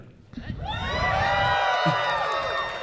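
A convention crowd at a Q&A panel bursts into loud, sustained cheering and whooping that swells and holds, with scattered shouts rising above the roar.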